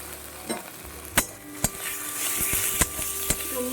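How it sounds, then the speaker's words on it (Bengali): Ginger, garlic, chili and cumin paste frying in a pan with onions, a soft sizzle broken by several sharp spatula knocks against the pan. "আমি একটু মশলাটাকে ভেজে নেব"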